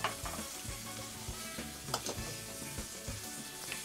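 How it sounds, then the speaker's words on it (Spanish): Fish sizzling in a wide frying pan, a steady frying hiss broken by scattered pops and a few clinks, close and fairly quiet, with no voices. "agarro el sartén y ya voy a poner el pez ahí"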